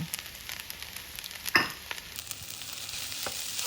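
Thai pineapple fried rice with shrimp cooking in a pan gives a steady close sizzle, with light stirring scrapes and one brief sharp clatter midway.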